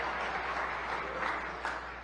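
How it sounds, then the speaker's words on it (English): Audience applause during Michigan's State of the State address, a faint, steady patter of clapping from a chamber crowd, sustained and distant. "some claps over here"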